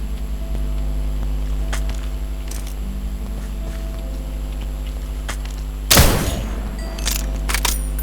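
A Minecraft game plays over a steady electronic hum, with faint clicks scattered through it, then one loud, sharp gunshot burst near the middle and a few lighter shots after it.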